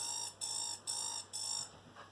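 Someone vocally mimics an alarm clock with three shrill, evenly spaced beeping bursts, close and loud, each lasting about half a second.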